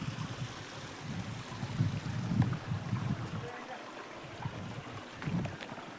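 Water rushes steadily over rocks at a waterfall, a broad low wash heard fairly close, with faint talk and some wind rumble mixed in.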